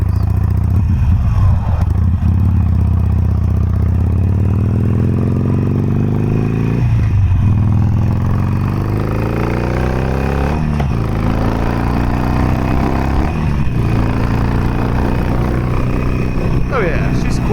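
A Harley-Davidson Sportster Forty-Eight motorcycle engine runs loud and close while riding, its low rumble rising in pitch through repeated gear changes, with brief dips between shifts and a voice talking over it.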